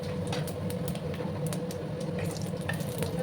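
Whole spices, dried chilli, bay leaf, cinnamon and cardamom, frying in hot oil in a pan for a vegetarian raw banana kofta, a steady close sizzle with light stirring scrapes and small pops.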